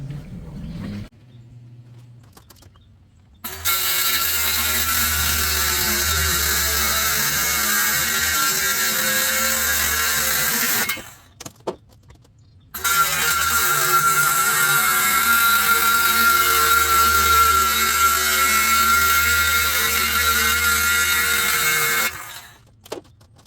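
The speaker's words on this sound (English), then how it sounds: "trim up the outside, excess off the outside with the skill saw" A skill saw trims excess off the outside of a cargo trailer door in two long, loud cutting runs, each a steady high whine that starts abruptly and stops, separated by a short pause.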